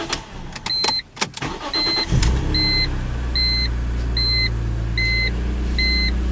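A BMW Z4 M (E85/E86) with a suspected voltage regulator or alternator fault starts up: a few chime beeps, a short cranking burst, then a steady engine idle with repeated warning beeps over it.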